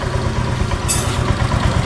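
A Honda Vario 125 scooter engine idles with a rough, uneven low rumble, steady and close throughout, with a brief hiss partway through.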